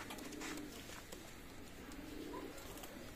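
Saki teddy pigeons coo softly in low repeated murmurs over a steady wash of background noise, close by and faint, with no voices.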